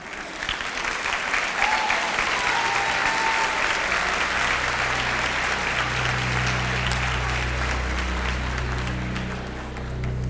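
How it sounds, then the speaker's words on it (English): A large audience at a school district opening day presentation applauds steadily as new staff walk on stage, a continuous wash of clapping that holds for about ten seconds over a low hum, with faint voices beneath. "let's give them a round of applause as they come up"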